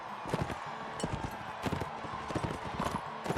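Horse galloping in the Mount & Blade Warband video game, a quick, irregular clatter of hoofbeats close by, with brief bursts of other game sounds mixed in.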